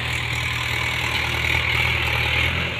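A Mahindra 575 DI tractor engine runs at a steady idle, a close, continuous diesel rumble with a faint higher whine above it.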